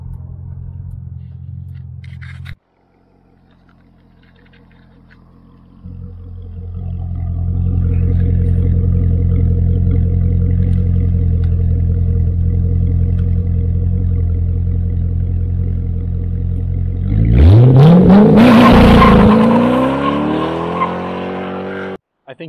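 A Corvette C6 engine idles with a low rumble, then roars loudly as it revs and accelerates hard with tire squeal near the end, heard from inside the car with no talk.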